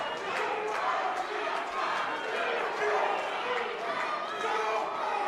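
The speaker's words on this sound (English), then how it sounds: "Crowd's chanting for the Iceman." A wrestling crowd at an NBW event in Sedalia, Missouri chants in a steady, rhythmic roar that fills the hall. A commentator talks over it throughout.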